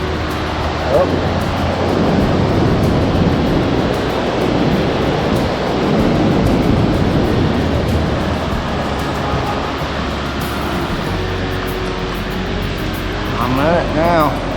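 Broad, steady surf rush of ocean waves washing in and drawing back along the beach at Ocean City, close and continuous, with faint voices and wind underneath.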